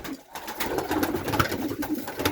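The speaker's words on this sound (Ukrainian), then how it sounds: "Тут ось ще й голубенята є" Young pigeon squabs in a dovecote give soft, close cooing calls, a few throaty murmured coos in quick succession over a quiet background.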